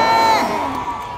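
A concert audience cheers and whoops loudly in a brief burst after a trot song, quickly fading.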